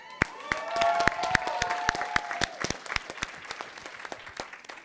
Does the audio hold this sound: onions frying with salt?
no